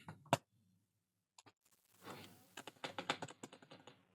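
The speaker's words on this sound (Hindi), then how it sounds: "मेरे कीबोर्ड की आवाज आ रही होगी आपको" Keys on a Lenovo ThinkPad laptop keyboard pressed in short sharp clicks: one isolated tap, a long pause, then a fast irregular burst of typing, close and fairly quiet with no voices.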